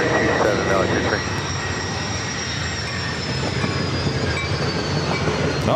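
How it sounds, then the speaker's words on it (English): A passenger train, an Amtrak Surfliner, rolls past near San Diego airport, a steady close rumble of wheels and engine lasting throughout, with a faint squeal of wheels mixed in and no voices. "Amtrak. Surfliner."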